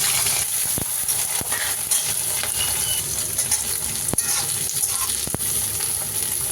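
Brinjal and home-grown tomatoes frying in hot oil with dry red chilli, bay leaf and cumin for a paneer curry, giving a steady close sizzle with a few sharp clinks from stirring.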